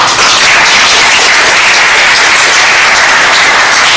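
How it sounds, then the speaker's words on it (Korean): An audience applauds steadily at a school-related gathering in Jecheon, a dense, continuous wash of clapping that fills the whole stretch at close range with no voices over it. "여러분들 박수 한번 쳐주세요"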